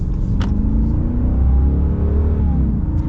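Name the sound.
2022 Ram 2500 Power Wagon 6.4 Hemi accelerating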